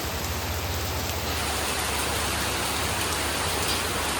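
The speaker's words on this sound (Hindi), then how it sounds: "आधे घंटे से बारिश हो रही है" Heavy rain pours down steadily, a dense constant hiss of drops hitting surfaces with no gaps and no voices.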